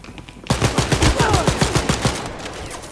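An electric gun in Wolfenstein Youngblood fires a rapid, loud, close stream of crackling pulses in a steady rhythm, roughly a dozen bursts running without pause after a brief quiet start.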